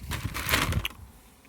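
A bear nut (Turkish hazel) shell is crushed open with a brief, close crunching crack lasting under a second, then quiet.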